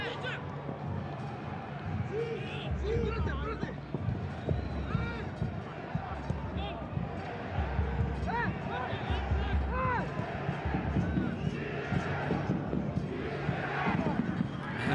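Large stadium crowd at a cold night football match in Ontario, a steady loud roar of massed voices with rising swells and cheers throughout, dense and continuous across the whole stretch.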